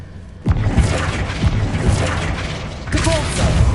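Flipendo spell cast in a Hogwarts wizarding video game: a sharp magical burst hits at the start, followed by a dense, loud rumbling blast that sustains throughout, with a second surge near the end.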